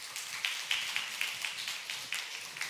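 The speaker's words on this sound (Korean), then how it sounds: "우리 박수 한번 쳐주시죠" A church congregation applauds the accompanist at a Sunday service, a fairly faint, even run of claps with a rhythmic pulse and no voices over it.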